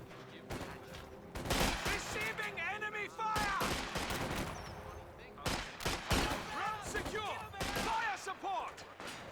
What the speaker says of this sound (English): We do have now Commissioners getting hit by the MG42.